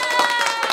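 An applause sound effect played on a Minecraft stream, a short, steady burst of dense clapping with a bright tonal edge, heard alone.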